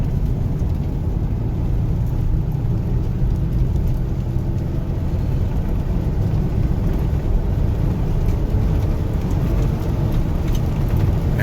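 Deep droning rumble from inside a moving Ford Explorer with a 5R55 transmission fault, its engine revving high without overdrive, a loud low roar mixed with road noise and no talking.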